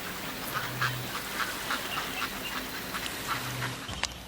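Ducks quack intermittently against a busy outdoor background hiss, with short calls repeating every half second or so at moderate distance.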